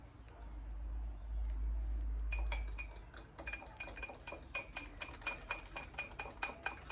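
A metal spoon clinks rhythmically against a bowl while mixing garlic sauce made with hot water, a steady run of bright, close taps after a brief low rumble, with no talking over it.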